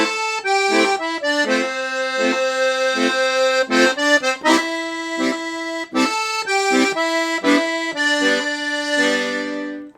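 A piano accordion plays a rock-and-roll zydeco melody in a lesson, carrying the whole tune except the final phrase. Reedy, sustained notes with short gaps form a lively rhythmic line that is heard alone, close and steady.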